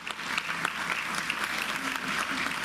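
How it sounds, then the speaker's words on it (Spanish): A congress audience gives sustained, dense applause, many hands clapping steadily and evenly at moderate volume for the whole stretch. "Démosle un fuerte aplauso y recibámosla con la ponencia"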